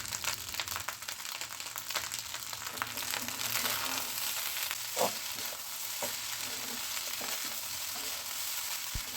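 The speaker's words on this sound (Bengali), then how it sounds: "ভাত দেওয়ার পর ভালো করে নেড়ে মিশিয়ে নিতে হবে।" Leftover rice being stirred and fried in a pan, a steady close sizzle with scraping spatula strokes and occasional clinks, no talk.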